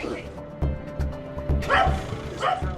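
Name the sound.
police dog barking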